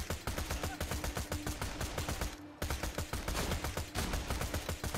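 Continuous rapid gunfire in the video game Borderlands 2, a dense unbroken stream of loud repeating shots with a brief gap midway, close and harsh, with no talk over it.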